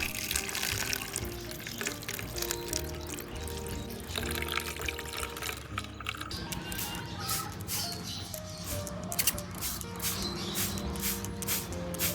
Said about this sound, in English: Do not forget to pour water in.